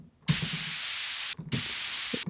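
Steady hiss of white noise in two loud bursts, switching on abruptly, cutting out for a moment, then resuming, with faint low thumps underneath.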